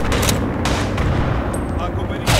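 Rapid gunfire from the World War I shooter Tannenberg, dense overlapping rifle and machine-gun shots cracking loudly and continuously for a couple of seconds.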